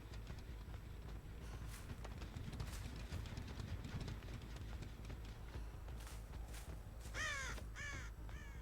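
Crows caw in the horror video game Dead by Daylight, with a quick cluster of harsh calls near the end rising out of a faint, rumbling game ambience.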